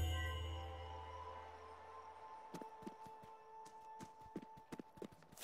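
Horse hooves clip-clop in the video game Spiritfarer, a run of irregular, crisp knocking steps that begins midway over a faint sustained background tone.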